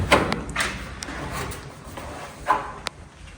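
Door of a 1964 Volkswagen Beetle with a stuck outside handle, opened from the inside: a few sparse, faint clicks and dull thumps from the latch and door, close by and with no talking.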